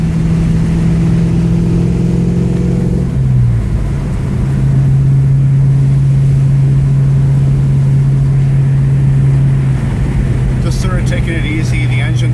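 A cold 1989 Ford Mustang LX convertible's engine idles steadily nearby with a low, constant hum, shifting pitch once early on and running on with a rough mechanical rumble.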